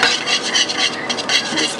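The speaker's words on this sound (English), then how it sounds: "Just keep stirring that with the whisk or whatever spoon that you have." A whisk stirs thickener into orange chicken sauce, giving a rapid scraping, rasping swish that repeats in quick rhythmic strokes, close and continuous.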